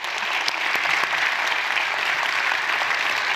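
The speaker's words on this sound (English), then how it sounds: "Give them a round of applause." A loud, steady round of applause from the audience at an education excellence celebration, with dense continuous clapping throughout and no talk.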